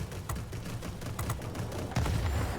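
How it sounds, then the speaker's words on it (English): Four 30mm cannons on a Me 262 HG III jet fire in World of Warplanes as rapid, dull thudding bursts over a constant roar, growing heavier near the end. "this plane has 4 30mm cannons, as you can see here. They kick some major booty"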